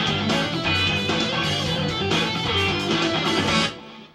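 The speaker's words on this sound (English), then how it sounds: "now what you're hearing there is, you know, the accompaniment" Dense full-band backing music from a track, the accompaniment without the lead guitar, with steady loud rhythmic hits and sustained chords playing throughout before cutting off abruptly near the end, no voices.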